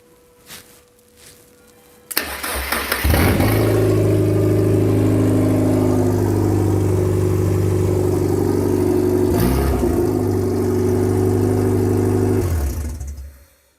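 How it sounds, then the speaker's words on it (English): A Mazda MX-5 NB based kit car engine cranks briefly, then catches and settles into a loud, steady running drone for about ten seconds before shutting off. "hopefully when I turn the key, we get spark, we get fuel, we get cranking, and then it fires up"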